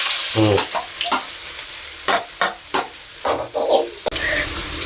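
Sizzling of onions frying in hot oil, with bursts of crackle and the scrape of stirring at intervals, close and loud.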